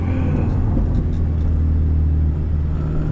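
A Hyundai Genesis Coupe fitted with a Forge blow-off valve and throttle body spacer drones steadily from inside while driving, a constant low engine and road rumble with no distinct valve release.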